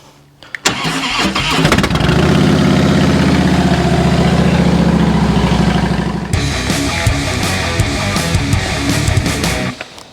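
A motorcycle engine with a newly replaced battery cranks, catches and roars into a loud steady idle, then shifts to a rougher, lumpier idle before cutting off.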